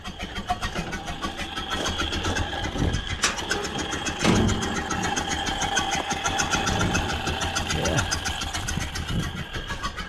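Ford Model A engine idling with the hood open, a loud, close, rough rumble with each firing stroke distinctly audible in an uneven chugging rhythm throughout.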